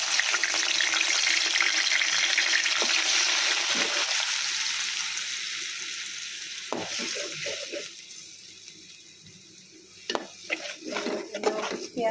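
Tengra fish frying in mustard oil in a pan, with a loud dense sizzle that gradually fades, then a quieter stretch broken by utensil clatter and scraping near the end.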